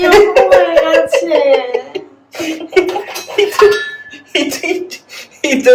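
A damaged saucepan, its base coming apart, clatters and clanks in bursts as it is handled in a home kitchen, with a voice talking between the knocks.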